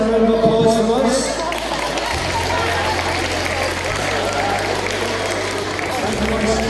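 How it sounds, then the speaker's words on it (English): Applause from an audience at a school awards ceremony, a continuous wash of clapping and crowd noise running the whole time beneath a steady low hum, with no clear pauses. "Smile for the cameras and a round of applause from us."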